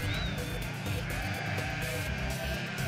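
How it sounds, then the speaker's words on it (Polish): Flock of sheep bleating steadily on a mountain pasture along the Transalpina road in Romania, many overlapping calls carrying continuously at moderate distance. "Pasterka wraz ze swoim stadem owiec maszeruje wprost na nasz kamper."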